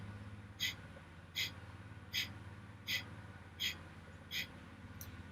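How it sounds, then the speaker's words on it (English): Seven sharp, forceful nasal exhalations of a fire-breath exercise, evenly paced about every three-quarters of a second, close and breathy over a low steady background hum. "This is also known as fire breath."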